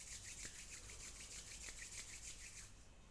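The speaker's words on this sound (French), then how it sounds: "Frotte les mains l'une contre l'autre," Hands rub briskly together during a gentle yoga session, a close, soft, rhythmic swishing of repeated strokes, faint and with no talking.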